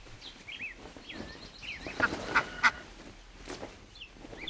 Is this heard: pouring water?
no